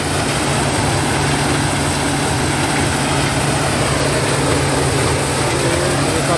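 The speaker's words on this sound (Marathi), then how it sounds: "खड्यांचा आवाज येतोय मशीनमध्ये" A maize thresher runs at a village farm, rattling with stones mixed into the corn. The machine drone is loud, steady and broadband, with a grinding rattle throughout.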